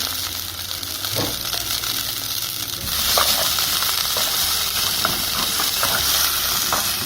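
Curry leaves drop into hot oil with sliced onions for a baby jackfruit curry, bursting into a sharp sizzle that jumps louder around three seconds and settles into steady close crackling, with occasional stirring clicks.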